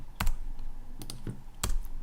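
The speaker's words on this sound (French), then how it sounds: "là j'appuie à chaque fois sur espace pour valider et espace pour resélectionner la fonction" A computer keyboard's space bar is struck three times at an uneven pace during technical drawing work, each press a crisp, close click with nobody talking.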